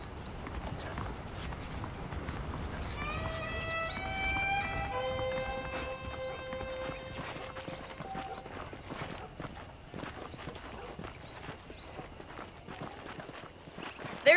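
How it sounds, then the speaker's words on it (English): Horse hooves clip-clop at a steady walking pace in the Western video game Red Dead Redemption, close and continuous under layered tonal game sounds. "The horses are saddled up over here."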